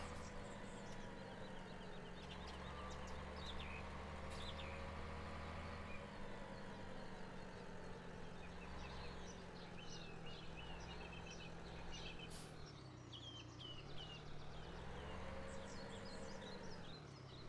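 Ambient birdsong in Farming Simulator 17 on an Amazon island farm map, faint scattered chirps above a steady low engine idle from a sprayer that continues throughout.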